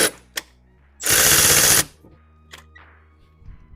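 A 10mm bolt is loosened from the valve cover of a 2008 Honda Civic Si with a power tool, giving a short loud mechanical rattling burst, with a few clicks and small metallic knocks before and after.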